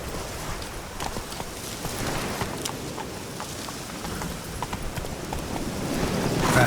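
A horse gallops in the video game Witcher 3, a rapid, steady clip-clop of hooves over a low rumble of ground and ambient noise that grows slightly louder toward the end, with no talking.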